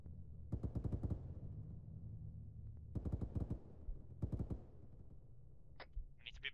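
Automatic gunfire in the Arma 3 military shooter, with three rapid bursts of rounds over a steady low battlefield rumble, followed near the end by a couple of brief high-pitched sounds.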